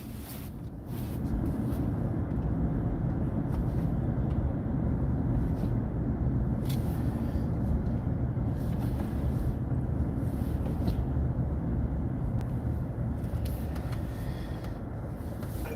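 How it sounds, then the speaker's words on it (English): Busy road traffic in Toronto makes a continuous, even roar of passing vehicles, a low rumble that holds steady throughout with no talk. "Crazy traffic out there."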